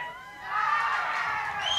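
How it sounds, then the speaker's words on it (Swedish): Festival audience at a song contest cheering and shouting, a bright sustained crowd roar rising after a brief lull and holding steady to the end. "De börjar jubla redan här"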